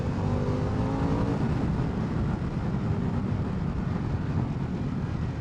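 A Harley-Davidson Pan America 1250 motorcycle in sport mode roars steadily along a mucky road, with dense engine drone and heavy wind buffeting throughout and a faint rising tone early on.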